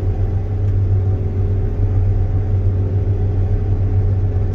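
A combine harvester runs while harvesting, its engine holding a loud, steady low rumble with a constant droning hum and no speech.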